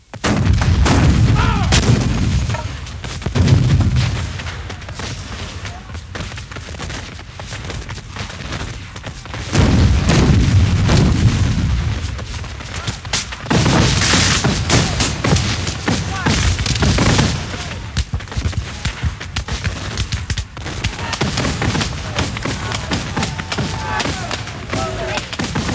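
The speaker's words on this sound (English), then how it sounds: "As Beauregard shifted his troops, the Confederate artillery pounded the Federals" Civil War re-enactment cannons firing in a staged First Bull Run battle, with loud deep booms at intervals over a continuous rumble of gunfire and distant crowd or battlefield noise.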